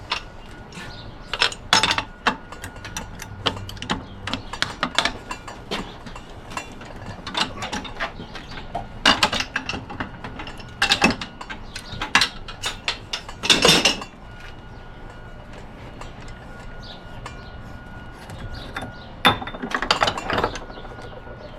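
A part is being unscrewed from a scrapped water heater, giving irregular ratcheting clicks and metallic scrapes in scattered bursts, close by and without speech.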